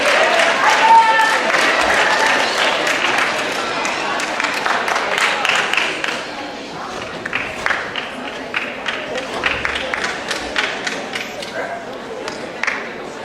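Applause from a school assembly audience at an eighth grade step-up day, a steady wash of many hands clapping that stays fairly even, then thins into scattered claps toward the end.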